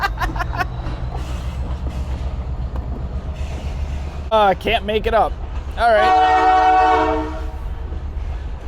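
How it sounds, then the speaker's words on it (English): A train passes nearby with a rumbling roll of rail cars and repeated loud horn blasts near the middle and end, while someone speaks briefly over it. "That's a train."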